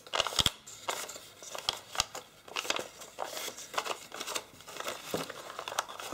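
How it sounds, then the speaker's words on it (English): Paper is folded and creased by hand for an origami tessellation. Close, dry crinkling and rustling comes in uneven bursts, with sharp crisp snaps where folds are pressed. No one talks. "adding a mountain fold"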